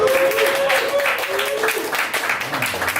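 An audience applauds at a live comedy show, a steady wash of clapping heard from within the room. A voice talks over it.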